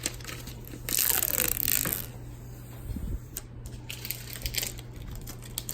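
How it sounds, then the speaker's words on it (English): Packaging of a new iMac 5K Retina is pulled open: close crinkling and crackling plastic with rustling bursts and a dull bump midway, fairly quiet with no talking. "This is a how-to video on how to unwrap your new iMac."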